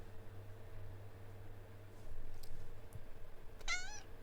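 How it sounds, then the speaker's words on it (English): A cat lets out a single clear, rising-and-falling meow near the end, close by, after a few seconds of quiet room hum and faint shuffling. "instead of therapy, it's just all cat noises"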